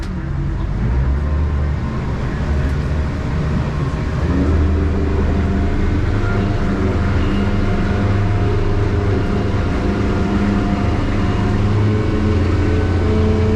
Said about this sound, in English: I'm going to crank the motors here. I'm going to get this thing going.